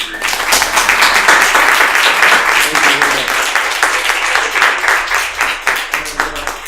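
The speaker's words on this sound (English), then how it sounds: "I'd like to give Samuel and Adam one more round of applause." A conference audience applauds the presenters after a talk on smartphone augmented reality in language classes; crisp, close clapping rises quickly and stays lively before thinning slightly near the end.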